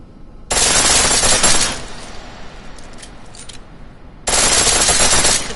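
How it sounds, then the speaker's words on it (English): Pistol in the video game Deus Ex firing on full auto, two loud dense bursts of rapid shots each lasting about a second, separated by a quieter gap with faint clatter. "The pistol in full auto will take down targets fast, but it'll burn through your ammo."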